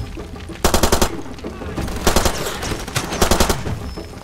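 Automatic machine gun fire in the video game Far Cry 2, with several loud rapid bursts and short pauses between them over a steady game background.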